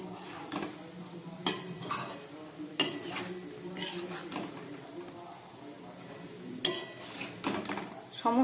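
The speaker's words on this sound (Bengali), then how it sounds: "ঘুরিয়ে ঘুরিয়ে এইভাবে ভেজে তুলে নিতে হবে।" Palm fritters (taler bora) fry in oil as a spoon stirs and turns them, giving repeated metallic scrapes and knocks against the pan over a soft sizzle, with quiet talk in the background.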